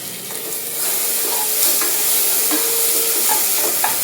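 Ginger garlic paste is stirred into sizzling biryani masala in a hot pan, a loud close frying hiss broken by scraping stirs and light clinks of the spoon, with no talking.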